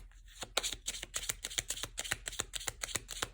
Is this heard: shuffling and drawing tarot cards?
yes